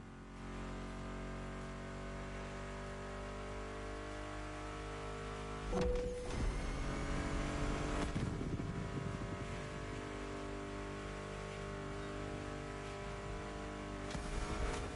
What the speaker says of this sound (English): Meshes well with the sound of the engines, you feel me?